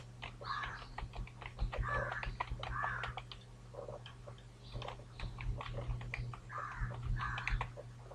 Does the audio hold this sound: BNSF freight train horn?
no